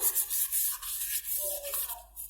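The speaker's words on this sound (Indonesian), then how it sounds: "kita amplas dulu" Rhythmic scraping of sandpaper rubbed back and forth over a metal brake drum, close and fairly quiet, with a few faint squeaks as it slows.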